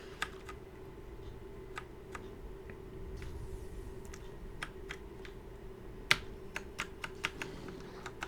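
Quiet, sparse typing on a new computer keyboard, irregular single key clicks and short bursts over a low hum, a few sharper taps toward the end.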